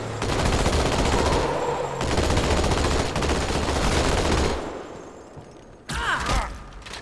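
Gunfire in the game Halo 2 Anniversary: loud, dense rapid bursts of automatic fire run for several seconds, briefly die down, then a second sharp volley erupts near the end.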